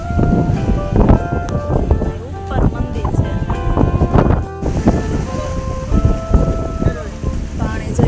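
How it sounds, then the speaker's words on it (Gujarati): A river rushes between hills near a Malnath Mahadev temple, a loud continuous roar of water mixed with wind buffeting the microphone as people talk nearby. "આ ડુંગરાની વચ્ચેથી જો આ જો નદી આવે છે"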